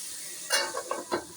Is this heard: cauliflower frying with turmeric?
yes